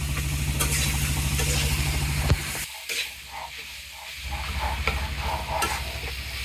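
Fish stirred and mixed in a frying pan, a loud rough scraping and sizzling that drops briefly before the frying hiss returns, with low rumbling underneath and no talk.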